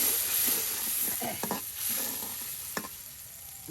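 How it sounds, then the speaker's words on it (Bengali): Local fish and spices being turned over and stirred in a cooking pot for a home-style chorchori curry: steady scraping and shuffling strokes with soft sizzling underneath, close and fairly loud, no voices. "দেশি মাছের সাথে মশলাগুলো একদম উলট পালট করে দেওয়া হচ্ছে"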